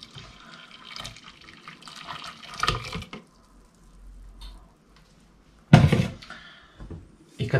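Hot soup stock with a dissolved stock cube, meant for creamy macaroni with spinach and chicken, pours into a pot as a splashing liquid stream in a few separate bursts, with a sharp clatter near the end.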